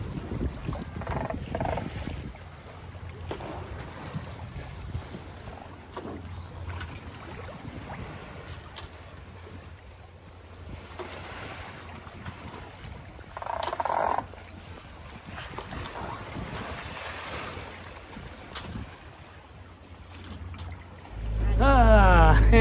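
A sailboat motors in toward Santa Barbara on engine power after the wind dies, with a low steady drone under wind buffeting on the microphone, water noise and occasional voices.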